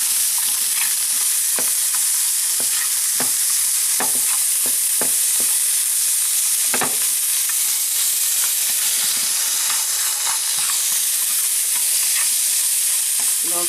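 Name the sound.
onions frying in corned beef fat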